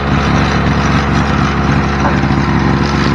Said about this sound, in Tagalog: Mapapabilis na ipag-grass cutter namin yan.